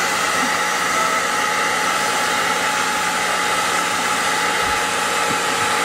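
Heat gun warming plastic trim on a 2007 Infiniti G35x so LED strip adhesive will stick, a steady loud blowing hiss that holds unbroken throughout.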